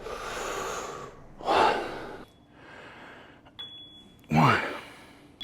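Heavy, deep breaths between sets of a shoulder workout on a home gym machine: loud, close inhales and exhales in a slow rhythm, with two especially forceful gasping breaths standing out.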